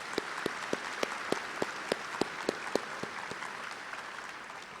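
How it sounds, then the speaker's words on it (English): An audience at a college commencement ceremony claps for a few seconds. Distinct hand claps ring out in a fairly sparse, even rhythm and sound moderately near. "A round of applause, please."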